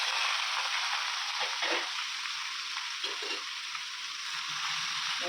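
Mutton pieces frying in hot oil in a heated kadai for Nagpuri-style Saoji mutton rassa: a dense, even sizzle crackles continuously, with a few soft stirring scrapes and no talk.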